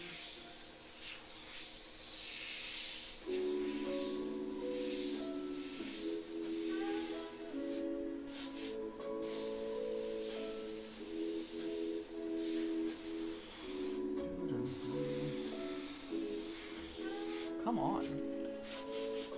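An airbrush sprays black paint in steady hissing bursts with short pauses, close and fairly quiet, while faint background music plays.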